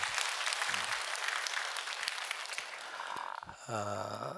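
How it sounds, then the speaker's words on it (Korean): A church congregation at an early-morning prayer service claps together, a dense, fairly quiet patter of many hands that carries on for several seconds before a deep, resonant voice takes over at the end. "우리 교회학교 위해서 여러분 박수 한번 해주셔요."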